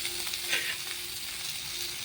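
Steady, close sizzling of food frying in a hot pan, a continuous hiss with faint crackles.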